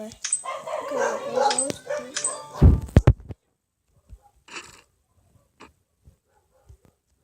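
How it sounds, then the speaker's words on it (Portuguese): A dog barks in a short sharp burst of a few close, loud yaps after a voice, followed by a few fainter scattered barks and noises in otherwise quiet surroundings. "Meu Deus, esse cachorro é chato"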